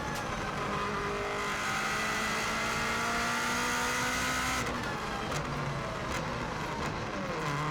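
2016 Subaru WRX STI driven flat out at the Isle of Man TT, heard from inside as a loud, continuous engine roar that drops pitch with a gear change while slowing into a hairpin, with no voices.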